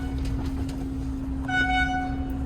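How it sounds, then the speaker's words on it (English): A steady truck horn blast sounds over a constant low engine hum at an asphalt loading area of a refinery, then a second higher-pitched honk joins in partway through. "we're going to listen for the honk"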